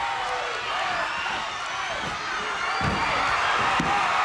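A wrestling arena crowd roars after a pinfall in a World Tag Team title match. The noise is a sustained, loud, wash-like cheer that fills the whole moment, with a few thumps underneath.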